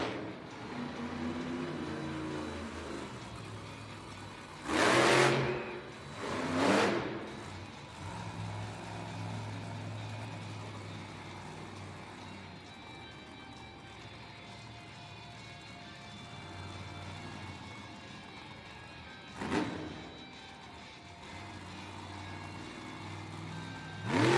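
Megalodon monster truck's engine roars in an arena during a two-wheel skills run, a steady loud drone with several sharp revving surges and crowd noise around it.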